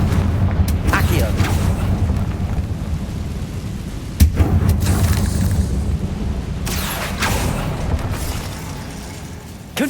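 Confringo fire spell explosions in Hogwarts Legacy, repeated booming blasts with crackling bursts, one sharp impact midway, amid loud game combat noise with a voice speaking over it.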